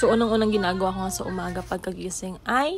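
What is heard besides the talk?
No distinct noise like a dog, phone or traffic.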